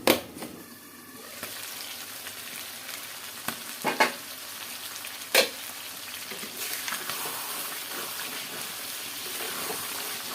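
Food sizzles steadily in a large kadai as it is stirred, with a few sharp scrapes and clinks of the spoon against the metal over a continuous frying hiss.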